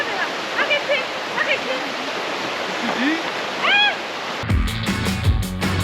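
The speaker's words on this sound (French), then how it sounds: "La rivière Soka." The Soča river in Slovenia rushing steadily over stones, a loud, continuous broadband roar close by, with birds chirping faintly above it before an abrupt cut to a different, rougher noise near the end.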